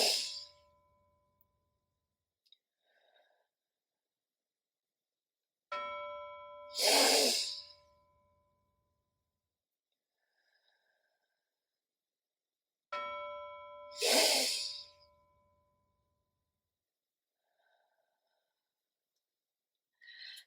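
A bell chime rings three times at steady intervals for cool-down breathing, each tone hanging briefly before a slow, audible breath in and out, with near-silence between rounds.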